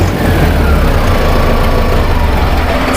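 A Mahindra 4D tractor engine idles steadily and loudly for the whole stretch, a dense low rumble with constant vibration, close by and without any talk over it.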